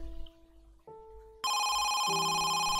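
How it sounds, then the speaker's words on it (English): Within the horror game Home Sweet Home, a telephone rings on, its electronic tones stepping up and then holding as a loud, steady, close ring with no voices over it. "Somebody answer the phone."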